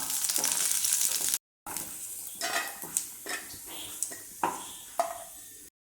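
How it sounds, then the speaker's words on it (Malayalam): Cashews frying in ghee in a pan for a jackfruit and ragi payasam, a close, bright sizzle with scraping stirs and clinks of a utensil against the pan, briefly cut to silence partway through. "ഒരു പാനിലേക്ക് കുറച്ച് നെയ്യ് ചേർത്തിട്ട് ചണ്ടിപ്പരിപ്പ് ഒന്ന് വറുത്തെടുക്കുക"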